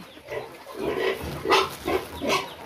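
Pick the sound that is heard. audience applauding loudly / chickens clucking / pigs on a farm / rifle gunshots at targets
pigs on a farm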